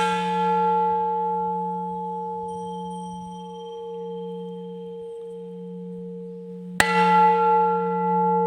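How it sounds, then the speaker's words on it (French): A temple bell made from a bell-shaped gas cylinder at a Buddhist temple in Thailand hums with a long, fading ring, then is struck once more with a sharp clang that blooms into a bright, sustained tone. "Bouteille de gaz en forme de cloche,"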